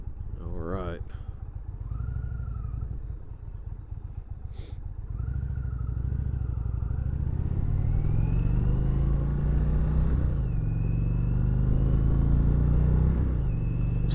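Indian Roadmaster Dark Horse motorcycle in tour mode, its deep V-twin rumble climbing steadily in pitch as it accelerates through the gears, loud and continuous with constant road and wind noise.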